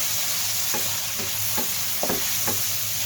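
Garlic, onion and tomato fry with bay leaf in oil in a pan, giving a steady close sizzle broken by a few sharp stirring scrapes about every half second to second.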